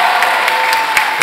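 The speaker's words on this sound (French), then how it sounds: "on peut l'applaudir, je pense." A convention audience applauds after a talk, dense steady clapping that fills the whole short stretch at full loudness, with a faint held tone underneath.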